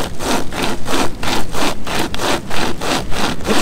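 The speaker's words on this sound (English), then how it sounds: "It's cutting underneath the log. It's also cutting the side." A Nordic pocket chainsaw, a hand-pulled chain saw, cuts through a wooden log in quick regular back-and-forth strokes, loud and close, about two pulls per second with no talking.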